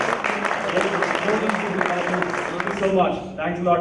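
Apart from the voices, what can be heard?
audience applause for teachers and alumni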